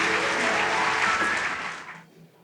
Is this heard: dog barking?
no